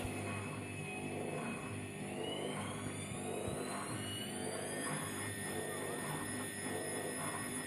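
A Zanussi Flexi Dose ZWG7120K washing machine ramps up into its final spin, with a steady motor whine rising in pitch over a continuous drum rumble.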